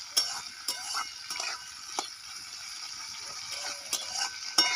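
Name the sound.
stirring drumstick stems in oil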